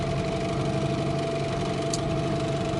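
A Mikatsu 9.8 two-stroke outboard boat motor runs quietly and evenly, a steady mid-pitched drone held without change at close range.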